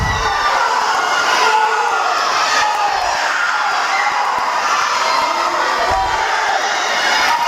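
Teammates cheer and shout continuously for a swimmer at a girls' subsectional swim meet, a loud, steady crowd roar in a reverberant pool hall with no pause.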